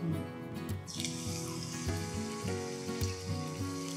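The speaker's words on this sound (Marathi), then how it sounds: "हे वेफर्स तेलामध्ये सोडूयात" Thin potato wafers sizzle in hot oil in a home kitchen, with a steady bubbling fry and a brighter hiss rising near the start as the slices go in, while background music plays throughout.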